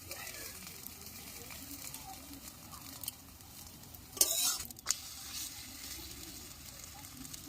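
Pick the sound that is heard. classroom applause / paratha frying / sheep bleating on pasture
paratha frying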